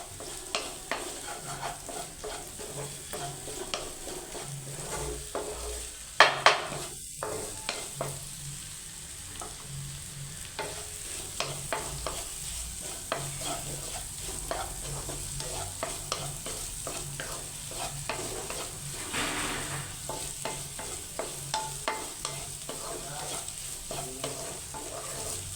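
Okra fry with beaten egg poured into the hot pan, sizzling steadily while a spoon scrapes and stirs at an irregular rhythm, close and without talk, with a sharper clatter partway through.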